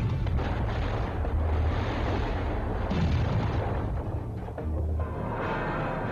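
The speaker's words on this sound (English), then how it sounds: "The force of the explosion is immense." A building filled with flammable solvents explodes during a fire, a loud, sustained blast of booming roar and crackling that persists for several seconds, briefly dipping before surging again, with no speech.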